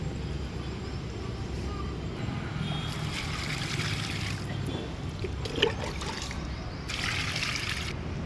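Water trickling and draining through loose soil in a potted plant after watering, a steady low wash of dribbling flow that persists throughout.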